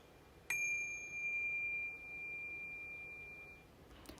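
A single clear bell rings once during a tarot reading, a bright struck tone that rings out and fades slowly over about three seconds in a quiet room.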